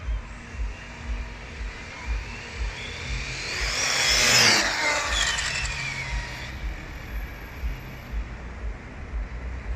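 A car passes through Monaco streets, its engine building from a distant hum to a loud, rising rev that peaks close by before fading away, set against steady low traffic rumble.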